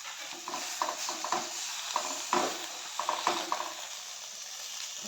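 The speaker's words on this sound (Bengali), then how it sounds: "আমার পাতুরিটা ভাজা হয়ে গেছে।" Cabbage paturi fries in a pan with a soft steady sizzle, broken by repeated scraping and stirring clicks of a utensil against the pan.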